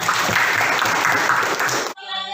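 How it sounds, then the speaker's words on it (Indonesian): A classroom group applauds another group, dense and loud clapping that fills the room, then stops abruptly and gives way to a voice. "kita kasih tepuk tangan untuk kelompok yang lain tadi"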